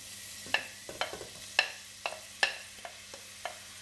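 Garlic and onion sautéing in a pan, with a faint sizzle under a series of sharp utensil scrapes and clicks from stirring, about eight strokes spaced unevenly, close and fairly quiet, with no voices.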